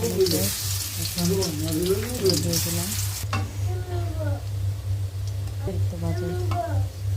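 Shrimp fritters mixed with whole lentils fry in hot oil, a continuous crackling sizzle that runs under a person talking throughout, with a brief louder burst of spattering at the start.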